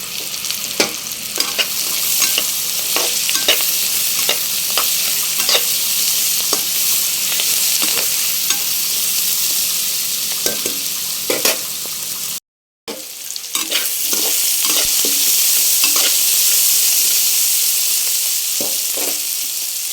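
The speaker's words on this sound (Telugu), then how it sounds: "ఈ విధంగా ఉల్లిపాయలు దూరంగా వేగిన తర్వాత కాకరకాయ ముక్కలు ఇందులో వేసుకోవాలి." Onions and bitter gourd pieces frying in a pan, a constant loud sizzle with frequent spatula scrapes and taps close by, broken by a brief silent cut, no speech.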